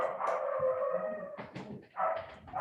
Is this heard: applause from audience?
no